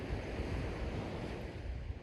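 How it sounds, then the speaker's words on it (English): Ocean waves washing onto a beach at sunrise, a continuous close, loud roar of surf with wind buffeting the microphone, no speech. "The waves in the ocean,"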